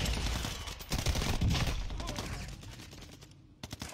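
Rapid gunfire in the video game Warzone, dense bursts of automatic shots crackling for several seconds before thinning out, with a few isolated shots near the end.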